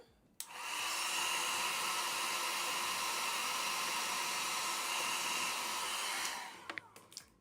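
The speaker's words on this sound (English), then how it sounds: "hit it with the blow dryer." A blow dryer roars steadily for several seconds while setting a lace frontal wig, a constant airy whoosh, then clicks off and trails into small handling sounds.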